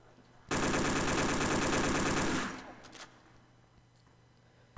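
Sustained automatic gunfire from a Call of Duty custom zombies map, a loud dense two-second burst of rapid shots that cuts off into quiet ambience with a few faint thuds.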